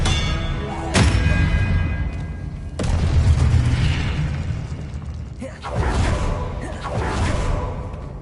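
Expelliarmus spell cast in a Hogwarts wizarding video game, a loud booming magical blast with whooshing swells, repeating in several heavy surges across the stretch over a dense, continuous rumble.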